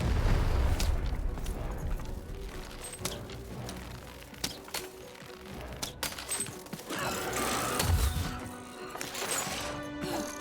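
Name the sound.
cannon firing in the video game Lost In Random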